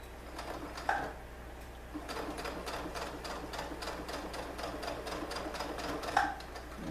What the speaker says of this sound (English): I am going to sew the sides of the ruffle together as we go up.